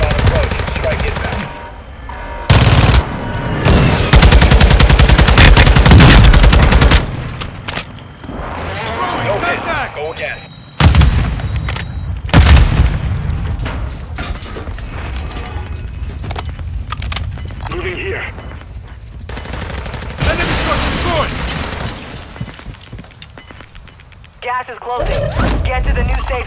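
Airstrike in Call of Duty Warzone 2.0 hits with loud bursts of gunfire and heavy booming explosions, dense and chaotic, with voices talking over parts of the action.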